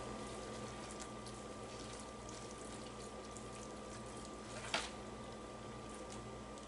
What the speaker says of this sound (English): let's give our hands a wash here